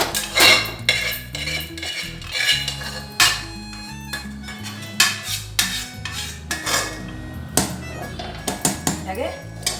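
Metal utensils scrape and clink against pans and a bowl as cooked food for a spicy vadiyam dish is moved across, with repeated sharp close knocks over a steady low hum.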